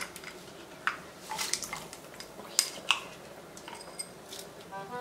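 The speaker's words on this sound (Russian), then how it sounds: "Загружаем чечевицу" Lentils and rice loaded into a large pot for soup: faint scattered clinks, soft patters and scrapes at irregular intervals over a low room hum, close but quiet.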